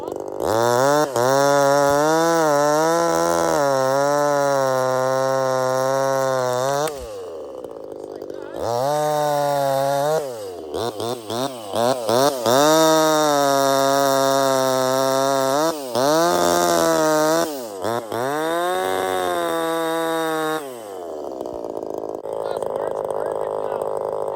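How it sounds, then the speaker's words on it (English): A small, carbureted engine idles near and steady for a long stretch, its tone rising and dipping with a few short pauses, while people talk over it now and then. "Little Red there is just running awesome. Just idles now like it's fuel injected."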